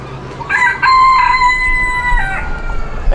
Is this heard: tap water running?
no